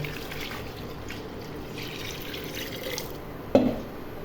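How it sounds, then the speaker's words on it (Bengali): Water is poured into a pot of raw nihari meat coated with ginger-garlic paste, a steady soft wash of liquid that ends in a short splash or knock near the end. "এখন আমি পানি দিব।"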